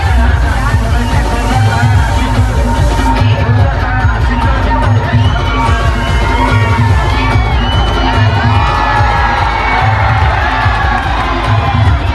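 A large crowd on an open ground roars and whoops as a seven-tier human pyramid breaks the dahi handi pot at a festival celebration, a dense, loud, continuous cheer with children's shouts and babble close by.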